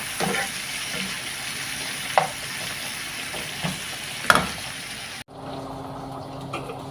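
Radish greens and tomatoes fry steadily in a pan with a continuous sizzle, broken by a few soft stirring knocks before the hiss drops sharply quieter near the end.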